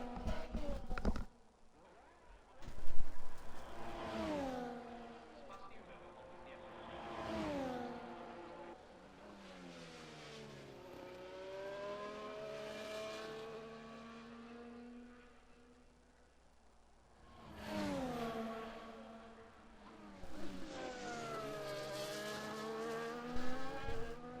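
F1 car engine in a racing video game during a qualifying lap at the Netherlands round, rising and falling through repeated upshifts and downshifts with brief tire squeal, heard under a commentator's voice.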